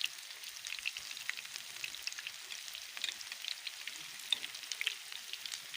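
Chicken wings fry in oil over low heat, giving a steady, soft sizzle with scattered small crackles and pops throughout, fairly quiet and close, with no voices.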